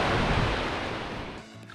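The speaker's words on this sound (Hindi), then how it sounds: "बहुत ज़बरदस्त फ्लो है नदी का" A fast-flowing mountain river in spate in the Himalayan hills near Sach Pass roars as a loud, dense rush of water close by, then drops away sharply near the end.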